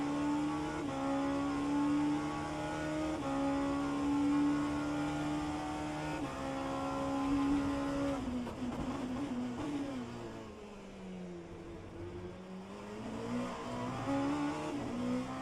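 A race car engine in the rFactor 2 racing game at Sebring screams at high revs, with gear changes, a drop in pitch while braking into a hairpin and a climb back up on the exit, loud and close throughout.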